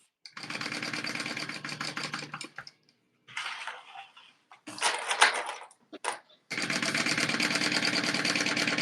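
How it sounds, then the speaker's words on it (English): A sewing machine stitches around a tote bag in long steady bursts, pausing between runs with brief handling noises and a short burst of talk in the gaps. "we're sewing around except for one hole, and we're sewing"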